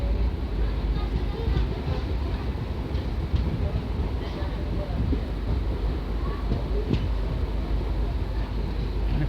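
A passenger train overtakes a WAG-9-hauled freight train at a railway station, a steady rumbling roar of wheels and wind with faint clatter under a voice talking throughout.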